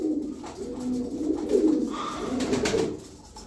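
Ten young ash-grey pigeons coo softly and repeatedly at close range, their low, rolling calls overlapping with faint wing and body movement.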